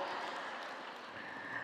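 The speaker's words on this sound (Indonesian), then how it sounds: "Tepuk tangan untuk Bu Endang yang sabarnya terkalahkan dengan saya" Applause from an audience at an alumni coaching session for Bu Endang, a steady dense wash of clapping hands filling the whole moment without a break, at a moderate, fairly distant level.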